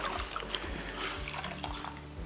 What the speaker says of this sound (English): I'm just going to add more water to my cloth.